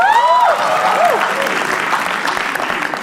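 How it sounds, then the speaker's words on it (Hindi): A crowd at a live comedy roast show bursts into loud, dense applause, with a whistle or whoop rising and falling over the clapping at the start before the clapping carries on steadily. "तालियां एक बार प्लीज।"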